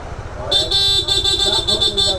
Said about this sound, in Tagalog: switch mode ng malakas na busina